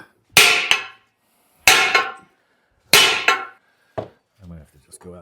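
Three loud, ringing hammer blows strike hot rod metal parts at even intervals, followed by a lighter tap and a short burst of talk.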